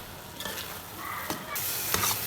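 Carrot halwa roasting in a pot as it is stirred, oil starting to separate: a steady soft sizzle with a few scraping strokes of the spoon, close and fairly quiet, no voices.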